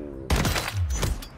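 A submachine gun in Call of Duty fires a quick, rapid burst of shots that starts abruptly after a brief quiet moment, loud and close.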